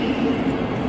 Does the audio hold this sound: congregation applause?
no